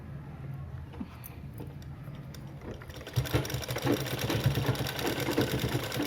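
A domestic sewing machine stitches a folded fabric strip around elastic for a hair band, a fast, steady mechanical rattle that grows louder and busier halfway through, with no talking.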